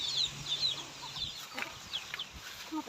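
Young chickens and laying hens clucking and peeping nearby outdoors, a scattered series of short calls over a faint background hum.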